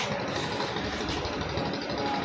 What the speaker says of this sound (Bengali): সেই ইঞ্জিনের ভিতরে একটা বিকট আওয়াজ করে।